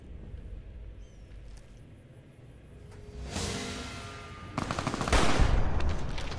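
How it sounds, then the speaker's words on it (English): Machine gun blind fire in a Fallout video game, two loud bursts of rapid automatic shots over a quieter ambient background, the second burst heavier and more sustained. "A blind fire with the fucking machine gun?"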